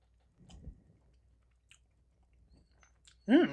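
Close, faint chewing and biting on hardened, separated peanut butter from a 1980 US military C-ration meal, then a sudden loud vocal exclamation at the end.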